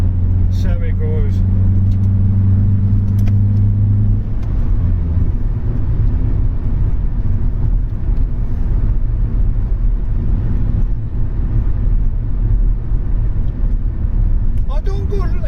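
A Vauxhall Cavalier 2.0 eight-valve car drives with a steady, loud engine drone and road rumble throughout. A low engine hum is strong at the start and then evens out into continuous noise from inside the car.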